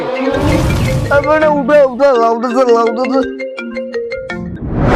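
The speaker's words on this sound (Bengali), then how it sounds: "এই কেবা তো ফোন করে গেলে" A mobile phone ringtone plays loudly and close, a bright repeating electronic melody with a voice briefly over its start.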